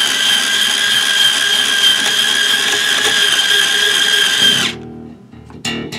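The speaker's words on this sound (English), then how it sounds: "before you put your string winder on there." Motorized string winder turning a tuning peg on a Music Man Bongo bass guitar, a steady loud whirring drone that stops abruptly near the end, followed by a few clicks and handling noises.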